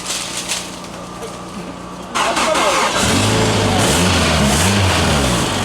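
A drift car's engine cranks and catches at a D1 Lights event at Bihoku, then idles and revs in rising and falling waves, loud and close, with faint voices early on.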